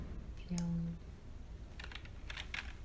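Keys on a computer keyboard are pressed while drawing shapes in Illustrator CC, a few quick clicks clustered toward the end against a steady background hum, with a brief tone partway through.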